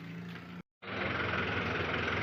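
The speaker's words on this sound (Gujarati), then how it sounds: "આપણી દુકાન આગળ ટ્રેક્ટર આવ્યું છે" A steady tractor engine rumble idles close by, briefly cutting out for a moment before resuming at a constant, slightly louder level.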